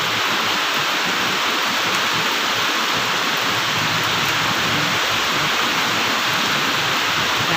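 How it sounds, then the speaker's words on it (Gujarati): Heavy rain pours down in a dense, loud, unbroken roar of water, steady and close from start to finish, with no voices. "જબરજસ્ત વરસાદ ચાલુ થઈ ગયો"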